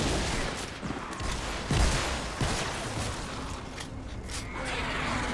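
Shotgun blasts ring out in a Fortnite match, several loud bursts and impacts over a dense, noisy game soundscape with mechanical clatter.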